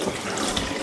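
Drumstick leaves washed under a running kitchen tap, a brief close gush of flowing water splashing over the leaves.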